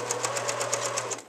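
A Pfaff Select 150 Anniversary Edition sewing machine stitching with its dual feed engaged, giving a steady rapid needle rhythm with a low motor hum, close and even throughout, no talking.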